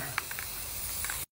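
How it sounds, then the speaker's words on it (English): Aerosol spray paint can hissing onto a painting surface in a short steady burst, close and fairly quiet, ending abruptly. "And now we spray the sky."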